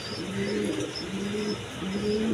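A pair of Bolder pigeons coo in repeated low, rolling phrases, close and clear, with several coos over a faint background hiss.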